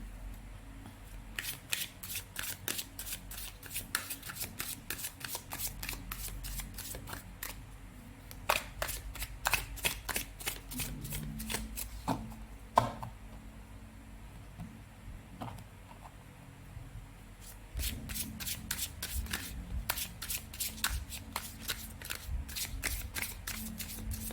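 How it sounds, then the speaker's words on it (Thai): Tarot cards being shuffled close up, a long series of rapid papery riffles and slaps that pause briefly midway and then resume, with no talking. "เราจะมาสับไพ่กันก่อนนะ"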